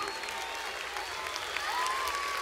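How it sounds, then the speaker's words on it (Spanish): Steady applause from a concert crowd welcoming a national youth symphony orchestra, broad and continuous, with a faint sustained tone running underneath through the clapping. "aplauso"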